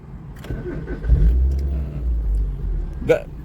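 A manual car on a first driving lesson starts and begins to roll, its engine giving a low rumble that swells as it pulls away. An instructor's voice speaks over the engine, and a sharp knock is heard near the end.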